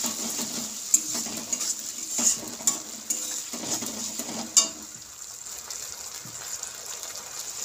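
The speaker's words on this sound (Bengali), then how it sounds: "এটাও হালকা করে নেড়ে নেব।" Ginger and green chili paste is stirred in a frying pan for Bengali potoler dolma, with soft sizzling under repeated scraping and clinking of a spoon against the pan, close and without talk.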